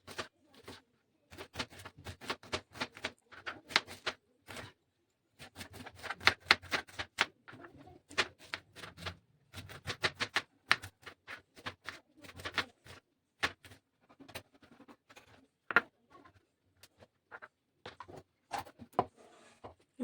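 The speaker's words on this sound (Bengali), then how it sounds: "তখন টমেটো আর পেঁয়াজটা কেটে নিই" Tomatoes and onion being chopped with a knife, rapid bursts of sharp close taps on a board separated by short pauses, with no talking.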